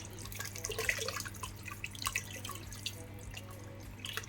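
A litre of water poured into a pot for Tunisian chorba with veal, a gentle running and splashing trickle over a steady low kitchen hum, with no talking.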